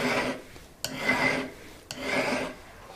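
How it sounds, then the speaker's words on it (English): A metal file works the outside of a forged jewelry ring in three steady rasping strokes, each opening with a short scrape, close and clear with no talking. "you're going to use your file and do the outside of the ring as well"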